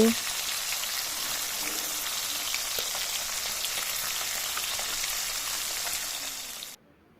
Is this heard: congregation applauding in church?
no